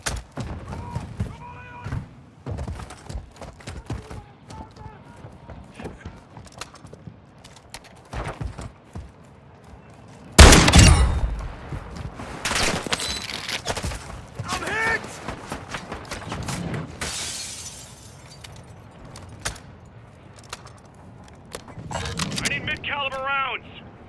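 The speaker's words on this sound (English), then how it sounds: "You are taking effective fire." Gunfire from Call of Duty Warzone 3 DMZ in Al Mazrah, with scattered sharp shots and bursts, one loud close volley near the middle, mixed with game voices and clattering movement.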